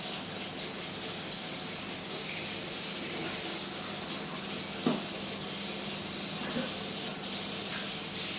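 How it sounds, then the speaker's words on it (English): Kitchen tap water runs steadily while hands are washed beneath it, a continuous close hiss of spray and splashing with faint rubbing, no voices over it. "wash my hands."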